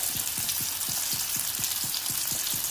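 Banana snack pieces fry in hot oil over a medium flame, giving a constant crackling sizzle with a steady series of soft, regular bubbling pops.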